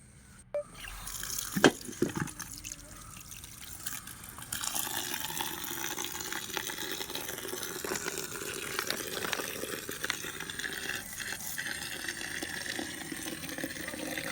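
Steady running water from a tap as wood sawdust is washed, with rinsing and swishing sounds throughout and a few brief knocks near the start; no voices.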